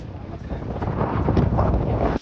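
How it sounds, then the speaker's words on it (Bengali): Strong wind gusts during a storm at sea roar steadily and loudly into the microphone as broadband buffeting, swelling slightly before cutting off abruptly at the end. "হঠাৎ সমুদ্রের মধ্যে ঝড়ের মতো প্রচণ্ড বাতাস আর ঝড় আসার সাথে সাথেই"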